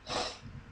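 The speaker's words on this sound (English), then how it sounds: "sniffle, sniffle, sniffle." One quick, close nasal sniffle, a short breathy snort of air drawn in through the nose.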